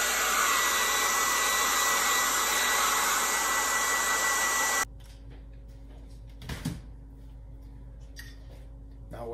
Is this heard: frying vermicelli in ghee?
no